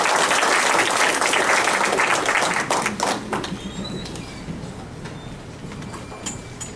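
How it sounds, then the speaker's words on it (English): Audience applause fills a room at a Houston Oasis Sunday gathering, a loud dense patter of clapping that holds for about three seconds, then thins into scattered claps and fades. "Let's give him a round of applause."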